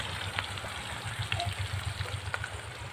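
Fish frying in a pan in a home kitchen gives a steady, faint sizzling hiss with a low hum beneath, continuous through the moment and free of talk.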